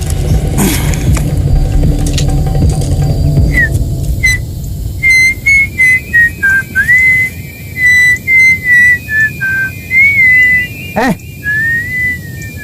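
A person whistles a coded signal, a series of short, clear tonal phrases rising and falling in a pattern, with some background noise and a sharp knock midway.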